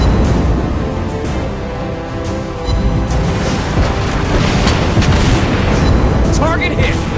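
Heavy booms and rumbling blasts from naval combat in the Warships Blitz video game, on elite/hard mode, roll on continuously and loudly with a dense, crashing wash of sound.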